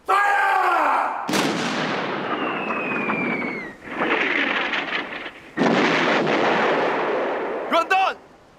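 Warship cannons firing in a naval battle at the Battle of Jiawu (First Sino-Japanese War), heavy booming blasts with rumbling tails, several shots in succession, loud and close, with a brief shout.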